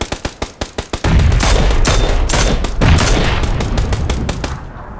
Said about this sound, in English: He's firing at me from the corner cliff now.